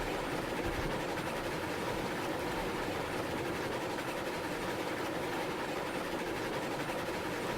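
A heavy multi-locomotive set rolls along in the video game RailRoads Online, a steady rumbling rail drone with faint clatter that holds at an even loudness throughout, with no talking.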